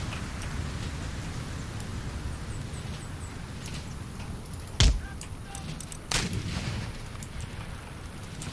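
Artillery in Empire: Total War, a sharp cannon boom and then a second shot standing out above a steady battlefield rumble of distant musketry and noise.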